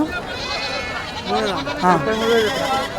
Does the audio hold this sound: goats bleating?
yes